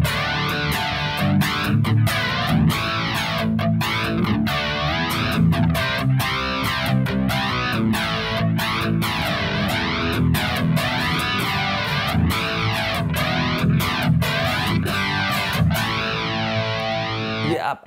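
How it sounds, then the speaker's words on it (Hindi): Distorted electric guitar run through a flanger effect pedal, its sweeping jet-like whoosh rising and falling in steady cycles over a sustained, chugging riff, loud and continuous with no talk. "इसको बोलते हैं फ्लेंजर इफेक्ट"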